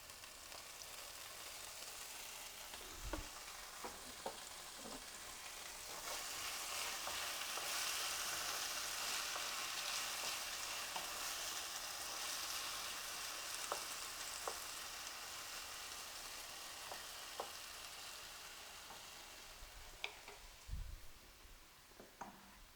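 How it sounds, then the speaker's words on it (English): Small portions of fresh julienne-cut fries sizzle steadily in oil in a pan, a continuous frying hiss that swells in the middle, broken by occasional clinks and stirring knocks. "I made the regular fresh fries, julienne cut fries in very small portions, and it's cooking"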